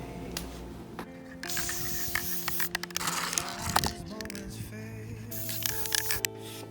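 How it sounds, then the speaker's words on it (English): An aerosol can of fixative sprays onto a piece of artwork outdoors in the cold, giving several close hissing bursts of varying length with brief pauses and small rattles between them. "I need to spray fixative on this thing."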